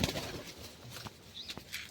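Pigeons being fed grain flutter and flap their wings in short, close bursts, with faint bird calls and light rustling in between.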